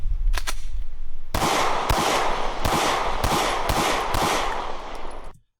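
A rapid string of sharp, loud handgun shots at close range, evenly spaced, after a couple of fainter cracks at the start.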